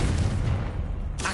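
A loud, booming fire-spell explosion from Hogwarts Legacy rumbles through its short length and then ends in a sharp crackling burst.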